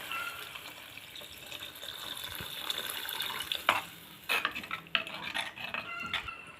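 A pot of coconut milk rasam bubbles and simmers steadily, with a few clinks of a utensil against the pot near the end.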